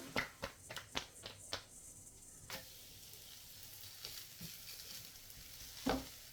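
Oil sizzles on a hot tawa griddle as a paratha cooks, a faint steady hiss broken early on by a run of sharp clicks and taps from utensils, then one more loud knock near the end.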